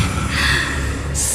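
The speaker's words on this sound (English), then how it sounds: "Listen, it's breathing." A creature breathes in Honkai Star Rail, a close, steady airy rush that swells and holds with a soft hiss, then a brighter breathy lift near the end.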